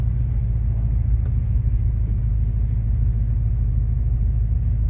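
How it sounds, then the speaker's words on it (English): A 1970 Cadillac Eldorado with an 8.2 liter engine rumbles through its exhaust, a deep, steady, loud idle heard up close with no voices over it. "Exhaust has been configured in such a way so as to announce the car upon its arrival"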